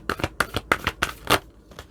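An oracle card deck, Moonology cards, being handled and riffled in a quick series of close, crisp shuffling bursts, about six in under two seconds, with no voices.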